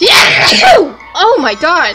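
One loud close sneeze bursts out during a casual gaming session, and excited voices talk right after.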